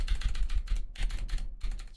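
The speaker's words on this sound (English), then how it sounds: "I got the clicky blue keyboard." Rapid, irregular keystrokes on a clicky blue-switch mechanical computer keyboard, loud and close-up, with no one speaking.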